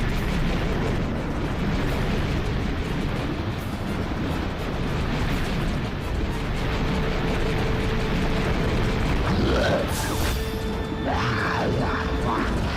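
A boss's bomb exploding in Zelda: A Link Between Worlds, heard as a sustained, loud, rumbling blast noise that fills the whole stretch, with a few brief chirping game tones near the end.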